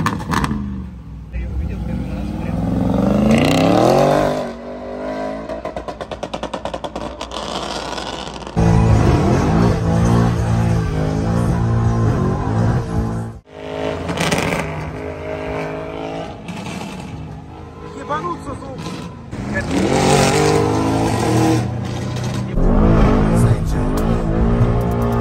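A car drifting sideways during an illegal street drift revs hard in repeated surges and drops, its engine rising and falling close by, while people talk over it throughout.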